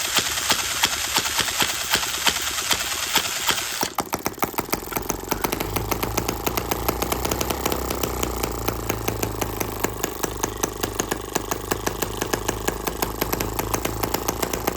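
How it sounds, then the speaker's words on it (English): A small model gasoline engine runs at a fast, steady idle, close by, its rapid firing rhythm continuous throughout with a brief change in tone early on. "Then we'll start the engine in the correct direction."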